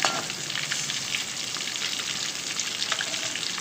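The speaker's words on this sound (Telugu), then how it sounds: "కొంచెం కుక్ అయిన తర్వాత ఇలా తిరిగేస్తున్నాము. అడుగంటనివ్వకుండా మొత్తం ఫ్రై అనేది చేసేసుకోవాలి." Fish fries in a pan with oil, a continuous close sizzle with scattered crackles as the pieces are turned.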